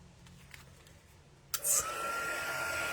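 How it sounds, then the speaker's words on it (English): A handheld heat tool for melting embossing powder on a card switches on halfway through, its loud steady airflow roar taking over from near silence and blowing on without a break. "then we've got our handy little heat tool again"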